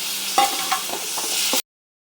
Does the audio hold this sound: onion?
yes